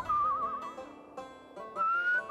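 A melodic whistled tune from the game Where the Water Tastes Like Wine, wavering and bright, played in short phrases with brief pauses, clear and alone without talk.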